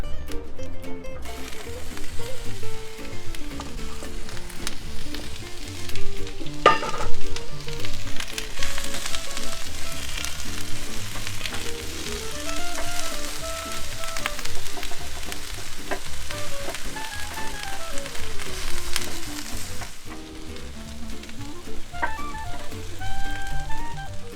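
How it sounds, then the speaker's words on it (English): Onions frying on a flat grill ahead of burgers, a steady loud sizzle with crackle and occasional stirring or scraping, continuous and close throughout with no talking. "Start by getting your onions on the flat grill, get them out of the way, and then we'll do the burgers."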